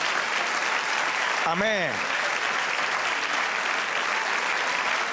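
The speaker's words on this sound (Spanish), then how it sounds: "Dale un aplauso al Señor" Sustained applause from a church congregation fills the space steadily throughout, with a voice briefly speaking over it partway through.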